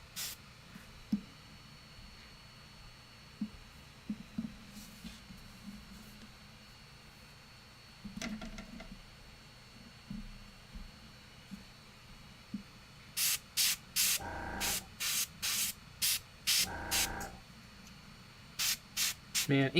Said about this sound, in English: inks are pretty magical through the airbrush